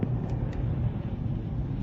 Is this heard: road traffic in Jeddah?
yes